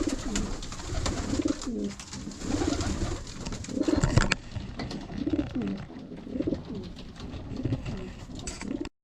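Pigeons being fed give repeated low, throaty cooing in pulsing rhythm, close and continuous, with some rustling and fluttering mixed in.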